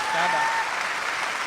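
Audience applause at a poetry recital, a brief dense burst of many hands clapping, steady and fairly loud with murmured voices beneath.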